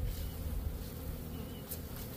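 Honeybees buzzing densely on a hive frame during queen rearing, a steady close hum of many insects with no talk over it.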